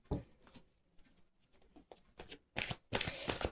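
Tarot cards being shuffled by hand before a reading, a series of crisp riffling and flicking bursts close up, growing busier and louder toward the end.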